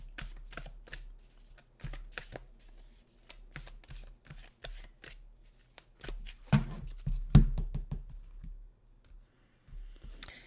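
Oracle cards being shuffled by hand, a string of close crisp riffling bursts and soft clicks with short pauses between, one fuller flurry near the end.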